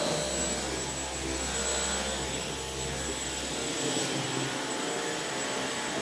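A Dyson V11 Animal cordless vacuum cleaner runs continuously with a loud, steady whine and airflow roar. The low rumble drops away partway through as the head moves.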